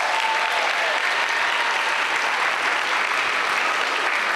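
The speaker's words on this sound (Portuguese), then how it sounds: "eu quero pedir a vocês uma grande salva de palmas" Steady, sustained applause from a large audience at a fashion show, dense clapping at an even level throughout with no voices standing out.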